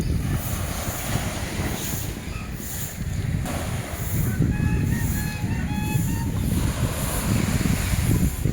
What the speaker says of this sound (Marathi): बघा अशा लाटा येत आहेत, समुद्राच्या लाटा येत आहेत.